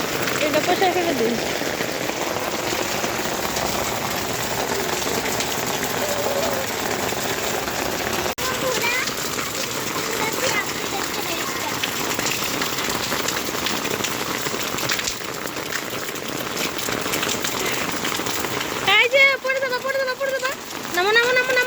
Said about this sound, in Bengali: দেখেন কি বৃষ্টি, প্রচুর বৃষ্টি নামছে।